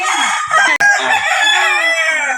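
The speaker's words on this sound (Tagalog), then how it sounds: "Pagkita ko ni Inko sa iyang manok guys oh" A rooster crows loudly and close in one long drawn-out call, with a brief cut partway through.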